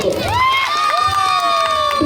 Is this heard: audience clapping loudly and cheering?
yes